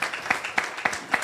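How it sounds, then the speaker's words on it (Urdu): A church congregation claps for the servants of the Lord, with a short burst of steady rhythmic clapping and a few louder beats standing out over the crowd. "ایک بار تالیاں بجائیں خداوند کے خادموں کے لیے، انہوں نے بہت محنت کی ہے"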